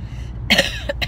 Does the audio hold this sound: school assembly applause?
no